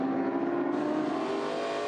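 A big Ford Falcon touring race car at Queensland Raceway roars past under hard throttle, a loud continuous engine note holding steady and close through the whole moment, with no voices.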